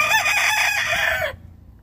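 A brood rooster gives one clear, close cock-a-doodle-doo lasting just over a second, then falls quiet, with no talk around it.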